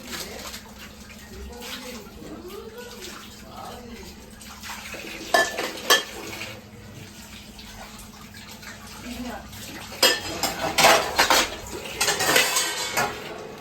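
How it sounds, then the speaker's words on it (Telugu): Utensils clink and scrape against a pan while masala powder is mixed into crab for a homemade KFC-style crab dish, with intermittent sharp metallic knocks under a voice talking and a background hum. "ఈ పౌడర్ అంతా దీనికి వేసేసి బాగా పట్టియాలి"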